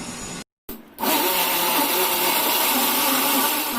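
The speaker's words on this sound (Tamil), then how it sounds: "இப்போ மிக்ஸி ஜார்ல நம்ம போட்டுட்டோம். இதை ஒரு 2 சுத்தி எடுத்துட்டு வந்துடுறேன்." After a brief click and pause, a mixer grinder starts up and runs with a loud, steady whirring roar, grinding sesame seeds continuously to the end.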